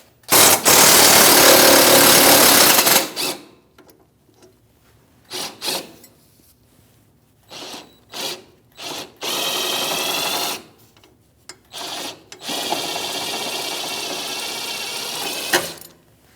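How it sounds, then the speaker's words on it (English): Rear sway bar link bolts on a 2016-2025 Chevrolet Malibu are worked loose with a 15mm socket and wrench: several loud, buzzing mechanical bursts of varying length, separated by quiet gaps with small scraping clicks. "It's a 15mm socket and wrench."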